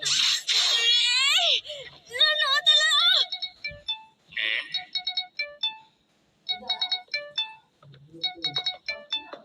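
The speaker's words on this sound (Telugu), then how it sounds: "ఎవరో కాల్ చేస్తున్నారు." A phone rings with an incoming call in the anime Dandadan, dubbed in Telugu, playing a bright, repeating electronic melody in short spaced bursts after a brief vocal sound at the start.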